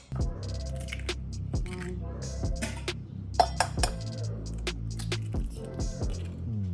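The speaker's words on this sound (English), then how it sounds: "Now we're gonna add in 2 eggs." Two eggs cracked into oat and Greek yogurt pancake batter in a bowl, with close glassy clinks and taps of shells and utensils against the bowl, several sharp knocks over a soft background hum.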